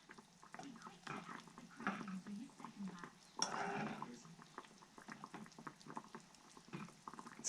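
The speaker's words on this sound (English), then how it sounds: "It's been probably about 15 minutes of boiling." Homemade dandelion jelly boiling in a pot, a steady bubbling and simmering bed with occasional utensil clinks and stirring, close and moderately loud throughout.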